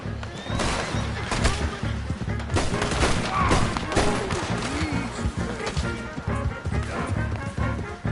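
Dense gunfire in Red Dead Redemption 2, rapid shots crackling continuously over horses and commotion, loud and close, with shouted voices mixed in.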